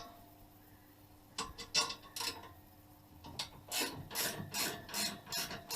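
A ratchet spanner turns on a Fairymann generator engine during servicing, with bursts of rapid close clicking, first a short run and then a longer series of ratcheting strokes.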